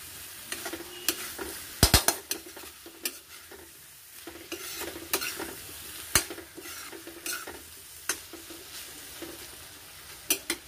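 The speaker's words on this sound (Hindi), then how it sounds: "इसको मिक्स करेंगे अच्छे से।" Raw banana curry with fresh green coriander being mixed in a pan, a low sizzle under irregular clinks and scrapes of a metal spoon against the pan, close and fairly quiet.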